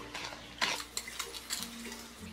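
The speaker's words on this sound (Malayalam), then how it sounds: "ഇനി ഇതൊന്ന് ഇളക്കി കൊടുക്കാം." A spoon stirs sugar and water into syrup in a pot for gulab jamun, giving a string of light metallic clinks and scrapes at close range with no talk.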